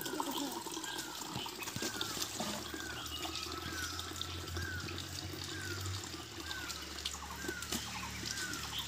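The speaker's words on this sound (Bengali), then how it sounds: "ঝর্ণার জল, আর এই জলটাই আমরা খাবো।" Spring water running down from a hillside source where people collect drinking water, a soft, steady trickle and splash with faint birdsong in the background.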